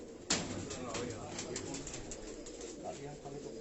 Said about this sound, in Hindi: ये देखो कबूतर उड़ रहे हैं।